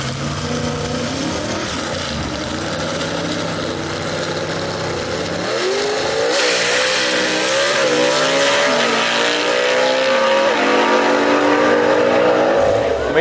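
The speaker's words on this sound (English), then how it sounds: "the Executioner 2, Wayne Stott behind the wheel." Gasser drag race car engines at a South Carolina dragstrip, a loud engine roar rising and revving with shifting pitch, heard under a race announcer talking.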